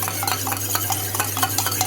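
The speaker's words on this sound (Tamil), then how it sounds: "முட்டையை நல்லா மிக்ஸ் பண்ணி" Eggs are beaten in a bowl with a quick, steady rhythm of whisking taps and sloshes, close and fairly loud over a low background hum.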